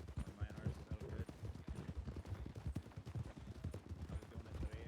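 Horse hooves clop in a fast, steady galloping rhythm while riding in Red Dead roleplay, faint and dense; speech is also present at a low level.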